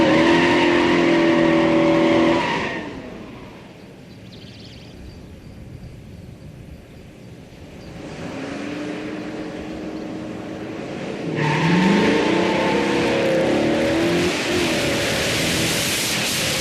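A classic muscle car launches down a drag strip, engine roaring loud and close through rising revs with gear shifts, easing into a distant drone before another loud pass with tire squeal rushes back in.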